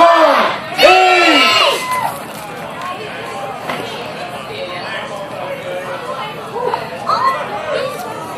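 Crowd at the Great Dorset Chilli Eating Contest, an outdoor food-eating competition, bursts into loud cheers and whoops on a countdown, then settles into busy chatter and scattered shouts, with a voice calling out at the start.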